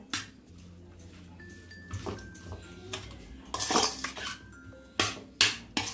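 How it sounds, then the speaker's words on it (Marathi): Metal spoon clanking and scraping in a pan while capsicum curry is stirred and mixed, irregular knocks and clinks with a few sharper strikes near the end, close and with no talking. "हे पण आपल्याला एकजीव करून घ्यायचं आहे असं हे खालीच एकजीव करून घ्यायचं आहे"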